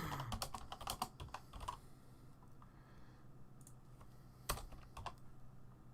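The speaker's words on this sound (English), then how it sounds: "That's why you can hear the clattering on my keyboard." Rapid clattering keystrokes on a computer keyboard come close and quiet. There is a dense burst at first, then sparser taps and a sharper clack near the end.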